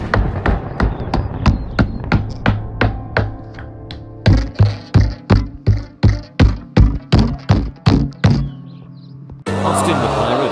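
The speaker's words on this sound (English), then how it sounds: "How dare you play your drums in my room?" Drums banged hard and loud in a bedroom, a steady run of about twenty heavy booming hits in even rhythm with a short pause midway, ending in a sudden burst of rumbling noise like thunder.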